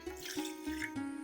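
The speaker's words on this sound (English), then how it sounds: "Next step, to a pressure cooker add water" Water poured into a pressure cooker while making Tiruvadirai kali, a short close splash and trickle with a few brief pulses over about a second, no talking.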